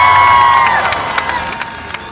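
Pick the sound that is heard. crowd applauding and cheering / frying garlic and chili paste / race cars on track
crowd applauding and cheering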